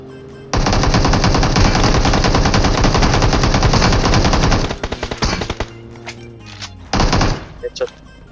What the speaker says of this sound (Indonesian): Ntar tembak, Rik.